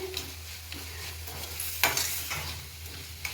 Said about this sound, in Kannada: ಎಲ್ಲ ತರಕಾರಿ ಹಾಕ್ಕೊಂಡಿದ್ದೀನಿ ಕ್ಯಾರೆಟು ಬೀನ್ಸು ಕ್ಯಾಪ್ಸಿಕಮ್ಮು ಟೊಮಾಟ ಈರುಳ್ಳಿ ಸ್ವಲ್ಪ ಬಟರ್ ಹಾಕ್ಕೊಂಡು ಎಲ್ಲ ಫ್ರೈ ಮಾಡ್ಕೊತಾ ಇದ್ದೀನಿ